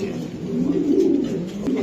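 A female racing pigeon coos softly in a low, throaty, continuous murmur, close by, with some faint background noise.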